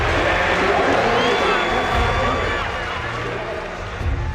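A stadium crowd roars steadily for Dan O'Brien at the US Olympic trials, a loud, sustained wash of cheering that fills the whole stretch, with a small swell near the end.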